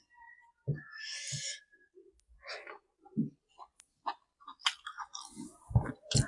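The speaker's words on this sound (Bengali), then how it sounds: "একটু আলু খেয়ে দেখি ও যা হয়েছে না আজকে খাসির মাংসটা বিশাল হয়েছে" Chewing potato and goat meat curry at a home lunch, with several close, moist crunching bites and mouth clicks in short irregular bursts, no speech.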